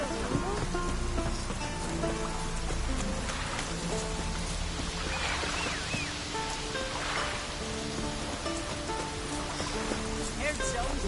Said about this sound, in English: Take a soothsayer to know when it's raining.